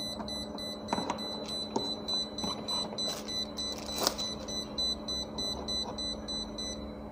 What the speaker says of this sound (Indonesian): Jadi ketika beep itu menandakan multimeter ini dalam kondisi error ya